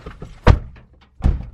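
A locked car door is tried, producing two close, heavy thunks about a second apart with quiet gaps between them and no speech.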